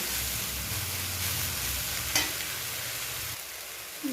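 Raisins and almonds frying gently in a pan over a low gas flame for a potato payesh, a steady soft sizzle with light stirring throughout, no one talking.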